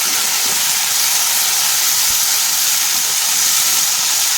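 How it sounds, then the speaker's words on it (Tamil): Mudakathan keerai greens with onion sautéing in a pan make a loud, constant, even hiss of frying steam that runs unbroken from start to finish. "கீரையை நல்லா வதக்கி விட்டுக்கலாம்"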